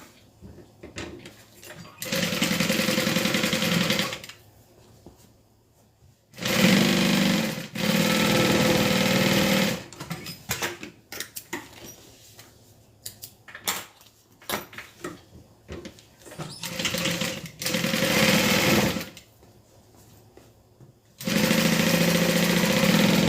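An electric sewing machine stitches a quilted bag in several bursts of steady, whirring hum, each running a few seconds and separated by quiet pauses with faint handling clicks.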